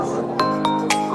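A smart-lock doorbell chimes at a Taipei building trade show, ringing a quick run of four bright electronic tones over steady hall noise.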